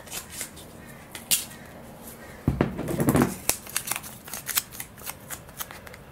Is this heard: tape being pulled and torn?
yes